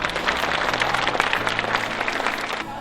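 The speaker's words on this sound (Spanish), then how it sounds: "Aplausos para todos ustedes." Crowd applause for a group of children at a community event in Eusebio Ayala, Paraguay: dense, steady clapping that fills the whole stretch at close range and fades slightly at the end.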